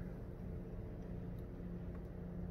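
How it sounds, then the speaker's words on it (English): A single car passes through an alley at night in a city under curfew, a low steady rumble that stays fairly distant and continuous, with no voices. "there aren't too many cars, although just one just going through the alley now."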